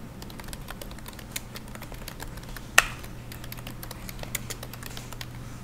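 Light keystrokes tap on a computer keyboard while text is entered in AutoCAD, irregular and fairly quiet, with one sharper, louder key press partway through.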